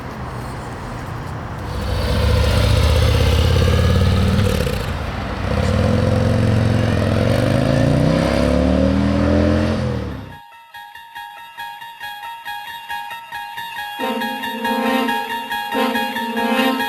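A motorcycle engine roars loudly at high revs with rising and falling pitch for several seconds, then drops away to a lighter, steadier engine tone as the rider sets off.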